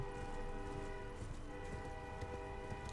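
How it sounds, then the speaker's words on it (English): A train horn sounds over a steady rumble of rail cars in the Elden Ring game world, sustained and fairly loud for the whole stretch with no talk. "And the train is here once again."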